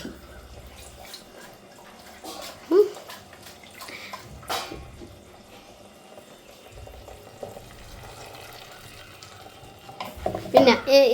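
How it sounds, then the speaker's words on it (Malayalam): Curry with ground coconut paste being shaken and stirred in a pan, quiet scraping and sizzling with a few sharp clanks and a louder burst of stirring at the end. "ഇനി അതൊന്ന് ശരണ്യ വീണ്ടും അതൊന്ന് കുലുക്കി ഇളക്കിയൊക്കെ എടുക്കുകയാണ് അല്ലേ?"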